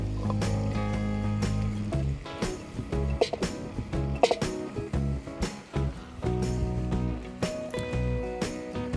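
Vegetables tipped onto seared guanciale and coppa in a Petromax FT9 cast-iron Dutch oven, a loud burst of sizzling and clattering pieces settling into steady, close frying crackle.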